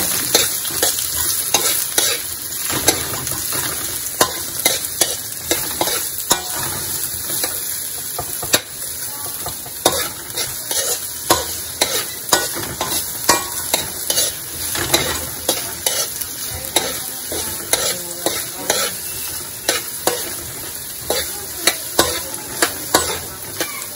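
Whole onion sautéing in a hot pan for Filipino beef kaldereta, a loud steady sizzle with frequent stirring scrapes and clicks of a utensil against the pan throughout.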